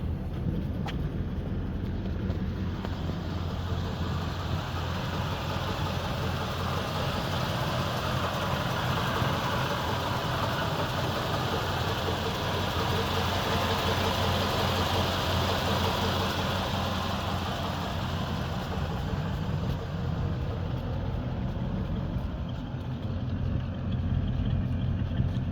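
A 1946 Cadillac Series 62 Sedanette engine with single exhaust, running a little rich, idles steadily at close range, a low, even rumble with soft chugging pulses throughout.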